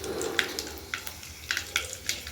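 Spices crackle and sizzle in hot oil in a wok for a fish curry, with a steady frying hiss punctuated by repeated sharp pops, close and moderately loud.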